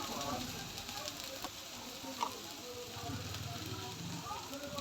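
Chili powder fries in a pan with a low, steady sizzle and crackle, faint and continuous, while someone speaks quietly over it.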